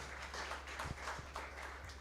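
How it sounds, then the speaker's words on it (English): Applause greets a female director entering a conference hall at an international interdisciplinary conference, heard as a faint, steady wash of scattered clapping that continues without a break through the short moment. "A clap for the director as she walks in"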